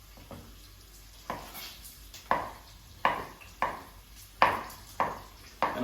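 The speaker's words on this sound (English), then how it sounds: "cut a little bit of this Parmigiano 48 months and grate it together with the pecorino" Parmigiano aged 48 months and pecorino grated together for carbonara: about seven rhythmic scraping strokes, each a sharp rasp that fades quickly, close and moderately loud, with no talk.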